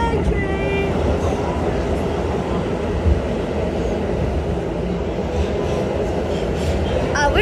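Inside a New York City subway A train in motion: a loud, continuous rattling rumble of wheels and cars on track, with faint squeals and some background talk throughout.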